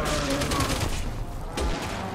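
Rapid bursts of gunfire in the video game Resident Evil 6 crackle and boom in quick succession, loud and dense, with little pause between shots.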